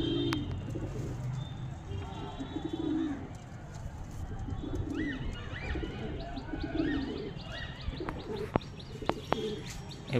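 Pigeons in a loft coo in repeated low rolling phrases while chirps and a few sharp taps break in toward the end, all fairly close and clear.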